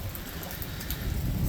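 Rain falls in a monsoon-season thunderstorm as a dense, steady hiss with low rumbling underneath, close and continuous, with no voices.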